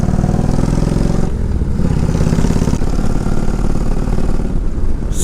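A motorcycle engine idles loudly and steadily up close, a constant throbbing rumble with slight shifts in tone, and no voices over it.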